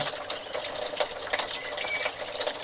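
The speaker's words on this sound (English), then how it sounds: "Water turned on" Water gushes steadily from a hose into a feed pipe at a watering station, with a hissing, splashing flow, close by and continuous.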